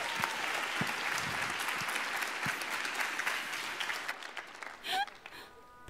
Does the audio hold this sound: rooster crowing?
no